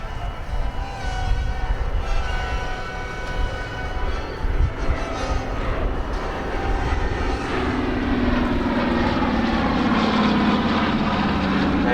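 Propeller transport aircraft, a type first flown in December 1935, flying past at an airshow, a steady loud drone of piston engines and props that swells and holds throughout without speech.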